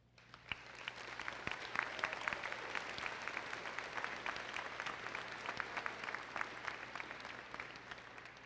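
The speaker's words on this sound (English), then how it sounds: "how about a giant thank you and a round of applause for our families here tonight?" An audience claps steadily for the graduates' families at a 2016 Interboro High School graduation ceremony, dense sustained applause that carries on without pause.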